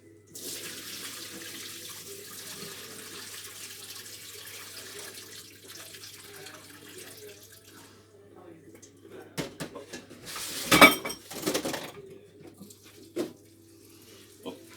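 Water drained from a pan of cut potatoes into a sink, a steady pour running for several seconds before some louder splashes and clatter near the end.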